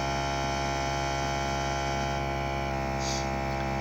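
A cooler unit's compressor runs with a constant, steady electrical hum, unchanging and alone throughout.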